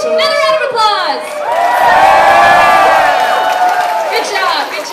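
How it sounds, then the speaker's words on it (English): Audience at a cosplay contest cheering and whooping loudly, with shouting voices and some clapping mixed into a sustained crowd roar. "Another round of applause!"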